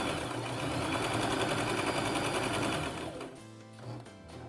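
Sewing machine back stitching a scrunchie, a fast steady mechanical whirr with rapid needle clatter, close by, then stopping near the end as faint handling noises follow.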